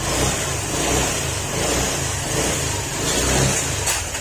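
A Honda Click 125 scooter engine with a suspected crankshaft fault revs steadily and close by, a continuous mid-pitched drone that swells and eases slightly throughout, with no voices.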